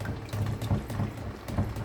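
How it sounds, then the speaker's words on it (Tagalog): Drinking water running from a kitchen tap over food being rinsed in a sink, a steady close splashing stream with small surges, no talking. "Tapos babanlawan po natin ng tubig na inumin."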